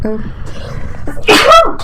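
A single loud sneeze bursts out near the mic during a family podcast recording, after a quiet moment with a brief voice at the start.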